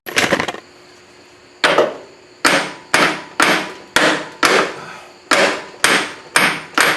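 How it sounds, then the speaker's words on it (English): Hammer striking the back of a CV axle on a 2002 Dodge Durango, about ten sharp metallic blows in a fairly regular rhythm after a short opening burst, close and loud. "So just tap on the back of that."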